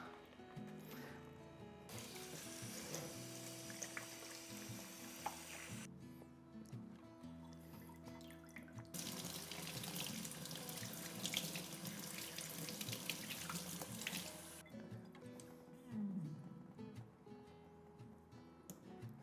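Water from a tap runs into a sink to soak moss for repotting plants, a steady close splashing rush that cuts on and off in bursts and changes pitch as the flow hits the moss.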